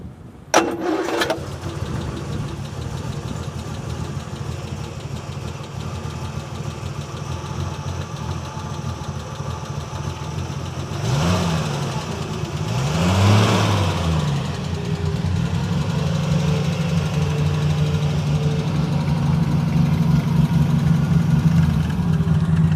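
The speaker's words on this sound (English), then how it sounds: "Let's hear the engine." A Triumph GT6 Mk2 sports car engine cranks and catches, then idles with a deep, steady rumble, revving up twice midway before settling into a loud idle.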